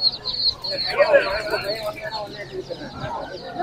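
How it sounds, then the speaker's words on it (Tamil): At a Chennai Sunday animal market, colourful dyed chicks and country chicken chicks make busy high peeping and clucking close by, while someone talks over them. "இந்த சைடுல பாத்தீங்கன்னா ஃபுல்லா கலர் கோழி குஞ்சு,"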